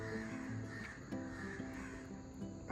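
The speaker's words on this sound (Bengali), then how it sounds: "পাখিরা ডাকছে।" Crows cawing at dawn outside a house while it is still dark, harsh repeated calls from a short distance over a faint steady background hum.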